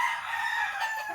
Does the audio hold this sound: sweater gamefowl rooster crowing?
yes